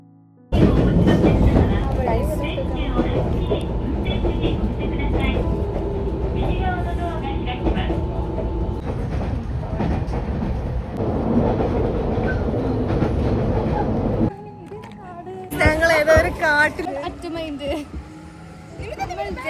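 A train runs on the rails near a small railway station in Japan with a loud, steady rumble and rhythmic clatter. It eases off toward the end as voices talk over it.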